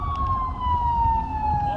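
A police-style siren wails close by as an official motorcade arrives in Kenya, its steady tone sliding slowly downward over a low traffic rumble.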